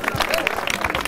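Applause from an audience at a school campus event, a short burst of scattered clapping with a voice talking over it.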